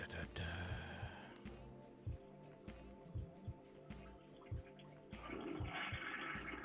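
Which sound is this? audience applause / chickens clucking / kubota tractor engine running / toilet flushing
toilet flushing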